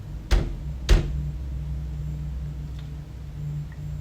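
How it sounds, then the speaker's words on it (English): Two sharp, loud knocks about half a second apart inside a house at night, followed by quiet with a steady low hum in the background. "Those early knocks are almost calm, then they turn into a rapid, frantic drumming"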